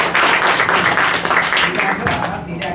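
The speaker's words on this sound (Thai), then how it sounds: "ขอเสียงปรบมือด้วยครับ" An audience at a coaching training session claps briskly for a few seconds, the applause thinning toward the end as a voice talks over it.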